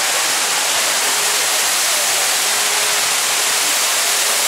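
Steady, loud rush of a pool waterfall splashing into the pool at the Mirage hotel in Las Vegas, a dense continuous hiss with no pauses.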